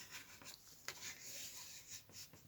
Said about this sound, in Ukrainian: і розгладити кільцями ножиць